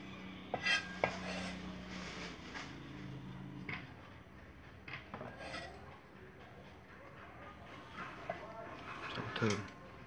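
Minced ingredients stirred together with duck giblets while preparing duck blood pudding, giving soft scraping and clinking of utensil against a pot or bowl, with brief louder knocks, under speech.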